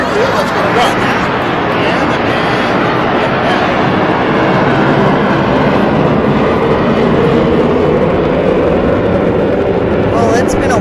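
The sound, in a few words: airplane flying over ballpark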